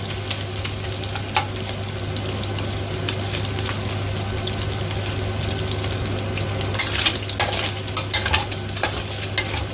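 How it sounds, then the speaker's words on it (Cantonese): Bacon sizzles in a pan while being stirred, as the base for stir-fried baby Chinese cabbage with dried mushroom and dried shrimp: a constant close crackle with intermittent scraping strokes and a low steady hum beneath. "咁啊再煎佢。"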